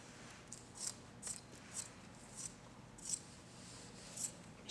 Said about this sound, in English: Now to finish it, you're going to trim